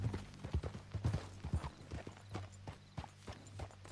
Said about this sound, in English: What was with that horse?